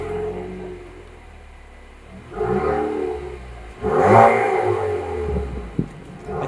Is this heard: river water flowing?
no